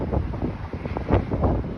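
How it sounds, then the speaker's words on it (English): Steady outdoor wind buffets the microphone with a low, rumbling roar that swells and gusts throughout in G. Ross Lord Park, North York, Toronto, with no voices. "it is so windy out"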